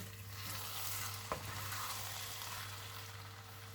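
Coconut milk and rice are stirred in a pot in a home kitchen, with a soft, steady simmering hiss under a low hum and one faint scrape of the spoon, no talking.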